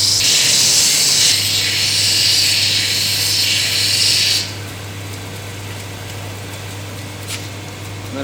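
An agate cabochon's edge is smoothed on a fine grinding wheel, giving a loud, steady abrasive hiss over a motor hum for about four seconds before the grinding eases off and only the machine's quieter whir continues alone.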